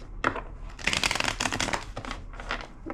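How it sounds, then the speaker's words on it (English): A deck of cards is shuffled several times in quick riffling bursts, close and fairly quiet, with short pauses between bursts. "2 more shuffles."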